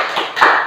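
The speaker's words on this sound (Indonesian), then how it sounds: "Tepuk tangan buat kelompok Pantai" Classroom applause, a short burst of hand clapping from a group of students, dense and fairly close, with no talk over it.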